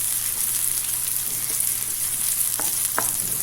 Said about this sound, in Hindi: इसको कुछ देर के लिए फ्राई कर लेंगे